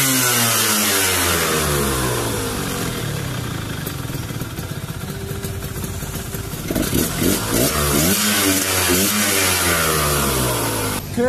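A Suzuki TRS two-stroke motorcycle engine, freshly fitted with a rebuilt carburetor, starts and revs up and down repeatedly, loud and close, with no talking over it.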